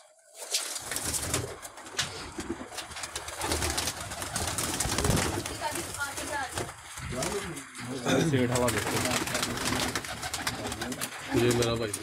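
Pigeons in a loft coo amid a steady, crowded din, with someone talking loudly over much of it and bird sounds mixed into the busy background throughout.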